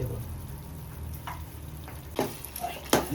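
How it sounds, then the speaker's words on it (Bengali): Boiled olives stirred in a pan for a village-style olive pickle, a soft low sizzle with a few brief scraping stirs near the end. "এখন আমি যে জলপাইটা সিদ্ধ করে রেখেছি সেটা আমি এখন দিয়ে দিচ্ছি ভালো করে একটু নেড়ে"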